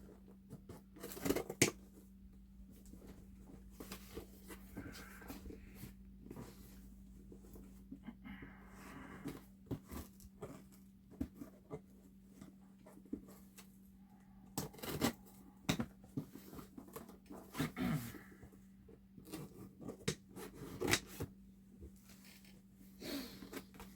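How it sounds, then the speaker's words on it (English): Scissors or a blade snip and tear through the packaging of a gift box, a scattered run of sharp cuts and rustles over a low steady hum, fairly quiet and close, with no talking. "Let's just cut this thing open."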